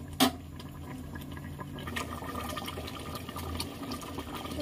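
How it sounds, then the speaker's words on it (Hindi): Korma bubbles in a pot on a home stove, a soft, steady simmering hiss and gurgle after a brief sharp clatter at the start, with no talking. "देखिए अच्छा सा बॉईल आ गया है और कोरमा हमारा बनके तैयार है"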